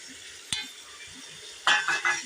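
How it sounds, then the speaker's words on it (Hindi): Beef fries in a pan with turmeric, green chilli and tomato for a potato-and-beef curry, a soft steady sizzle broken by a sharp utensil clink and a burst of stirring scrapes near the end, no voices. "2 से 3 मिनट इनकी भुनाई कर लेंगे।"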